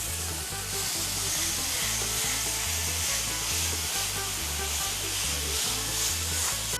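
An entrecote steak sizzles in a frying pan with a constant, bright hiss, steady from start to finish over a rhythmic low background pulse.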